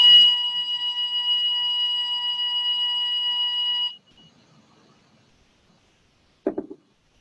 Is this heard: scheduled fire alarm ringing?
yes